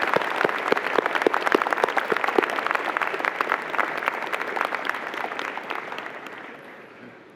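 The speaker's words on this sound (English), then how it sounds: "Let's give them a huge round of applause." Audience applause at a university convocation ceremony, a steady dense patter of many hands clapping that gradually fades away.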